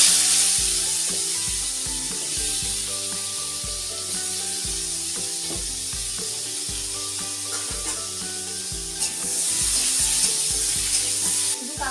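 Potato pieces coated in salt and turmeric fry in hot oil, a loud, continuous sizzle and hiss with music playing underneath.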